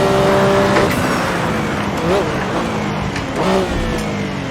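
Simulated Porsche 962C race car engine held at full throttle in a sim racing session, a loud steady drone with rising revs and two brief pitch swoops from gear changes, while someone talks over it.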